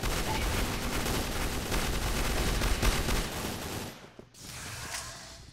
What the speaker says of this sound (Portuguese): O engraçado desse modo rajada é que não dá direto